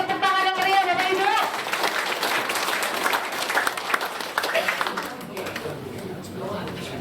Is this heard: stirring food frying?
no